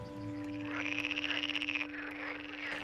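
Frogs croak in rapid pulsing trills at ponds in a sandy former sand pit, a chorus of rhythmic calls over a steady hum, with no voices heard.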